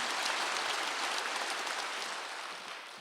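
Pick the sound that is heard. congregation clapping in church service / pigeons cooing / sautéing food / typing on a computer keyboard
congregation clapping in church service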